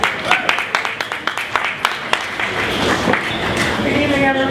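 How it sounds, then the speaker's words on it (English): A crowd at a soul music event applauds with scattered claps at first that build into steady, sustained clapping, fairly close and lively. "A round of applause, please."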